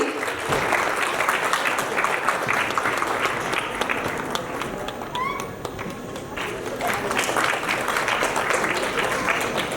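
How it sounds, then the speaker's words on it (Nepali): Audience applause at a public ceremony, dense continuous clapping from a crowd, steady and fairly loud, easing slightly midway before swelling again. "जोरदार ताली उहाँहरूको लागि।"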